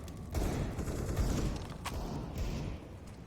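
Pistol gunfire, including a USP, rings out in a Counter-Strike grand final match between Gambit and Entropiq, with sharp, scattered shots and bursts over a busy background din.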